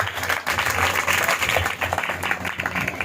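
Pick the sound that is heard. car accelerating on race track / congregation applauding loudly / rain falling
congregation applauding loudly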